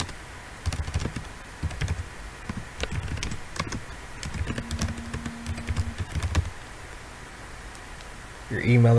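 A computer keyboard being typed on in quick bursts of clicking keystrokes while someone speaks over it, entering a name into a Twitter sign-up form.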